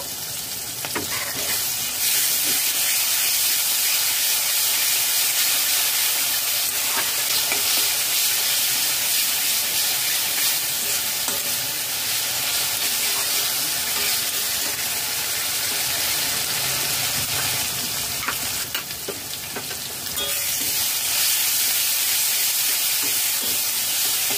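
Onion paste sizzles and fries steadily in hot oil in a pan that already holds ginger-garlic paste, a continuous loud hiss with occasional stirring scrapes and no voices.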